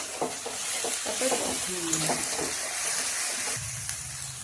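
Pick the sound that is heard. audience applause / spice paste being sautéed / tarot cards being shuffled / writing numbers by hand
spice paste being sautéed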